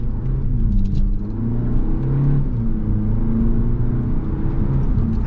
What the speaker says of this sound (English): And nice and quick on the upshift.